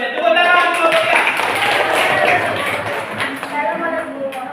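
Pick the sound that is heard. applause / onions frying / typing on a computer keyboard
applause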